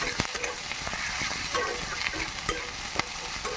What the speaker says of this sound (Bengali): এখানে কাঁচা পাকা দুটোই লঙ্কা নিয়েছি এগুলো ভালো করে নেড়ে চেড়ে ভেজে নেব